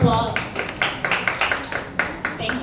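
Audience applause at the unveiling of a graphic novel: a run of sharp, close hand claps with a few distinct strikes standing out, steady for a few seconds, with faint voices underneath at the start.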